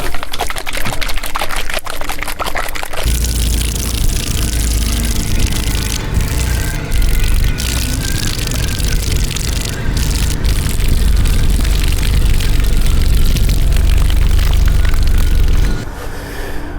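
A can of paint, used for painting a boat rudder, is shaken hard for about a minute, giving a loud, continuous rattling churn that starts abruptly and stops just as suddenly, with no talking over it.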